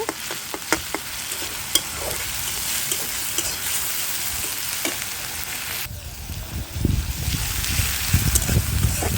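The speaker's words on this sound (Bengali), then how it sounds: "পেঁয়াজ, আদা রসুন আর পেঁয়াজ বাটা দিয়ে আমি মশলাটাকে খুব ভালো করে কষিয়ে নিব" Spice paste of onion, ginger and garlic sautéing in a pan for a eggplant and tilapia fish curry, a steady close sizzle and fry with scraping stirs, growing louder and denser toward the end.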